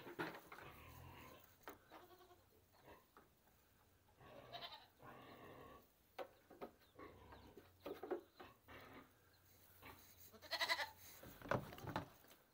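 A small farm goat bleats several times at intervals, faint and fairly distant, among quiet rustling and occasional bird sounds.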